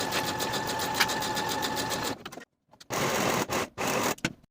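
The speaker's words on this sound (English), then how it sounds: "Then sew these seams with a 1/2 inch seam allowance and finish the raw edges." A sewing machine stitches the sleeve seams of a tie-front blouse, humming close and steady for about two seconds, then pausing before several short, quick bursts of stitching.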